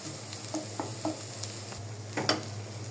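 Potatoes frying in a pan for mashed bhorta, a quiet, low sizzle with a few soft clinks and scrapes from stirring, heard alone without speech.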